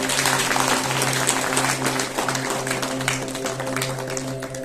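A village crowd keeps up continuous applause at a Shiv Jayanti celebration in a home in Kalyana, many hands clapping in a thick, even wash that holds steady from start to finish.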